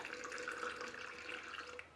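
Melted palm wax dribbling out in a pour, bubbling with air, heard as a steady, close, liquid trickle of moderate loudness with no talking.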